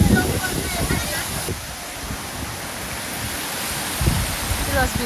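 A waterfall at Madhe Ghat gives a steady broadband rush of falling water, continuous and moderately loud, with wind buffeting the microphone.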